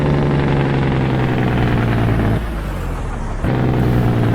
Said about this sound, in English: That is the new sound of a Cummins N14 exhaust from the outside.